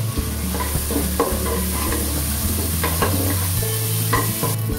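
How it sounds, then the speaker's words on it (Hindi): Onion and garlic fry in a pan while a spoon stirs them, a steady close sizzle with scraping stir strokes throughout, for a Bengali shukto dish with bay leaves. "अभी इसमें मैं लहसुन ऐड कर रही हूँ।"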